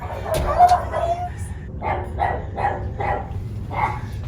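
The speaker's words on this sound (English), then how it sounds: "Hey, puppy dogs" A dog gives a run of short, evenly spaced barks and yips, close by, after a brief burst of excited human voice at the start.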